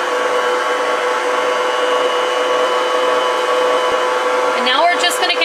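A stand mixer runs on low speed, working dough with a steady, even motor hum and whine throughout; a voice briefly joins near the end.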